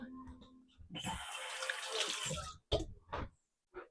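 Tap water running into a kitchen sink for washing garlic, a steady close rush lasting under two seconds, followed by a few brief knocks and handling noises, with a little talk near the start.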